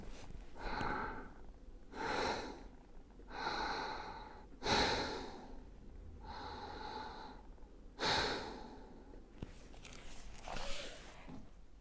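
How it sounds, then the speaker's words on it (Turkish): A person breathes slowly through hands cupped over the nose and mouth in a children's yoga breathing exercise. About six separate breaths come close and soft, each a muffled, airy rush with a quiet pause between. "ellerinle burnunu ve ağzını kapatıyorsun ve sonra yaklaşık bir dakika nefes alıyorsun"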